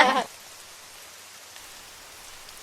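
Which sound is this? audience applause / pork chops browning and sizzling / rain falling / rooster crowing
rain falling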